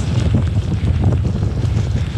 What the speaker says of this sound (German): Das dann alles mit viel Wind von vorne.